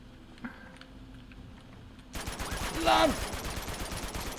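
Rapid bursts of gunfire in the video game Uncharted 2: Among Thieves break out after a quiet stretch, crackling steadily with a brief voice calling out over it.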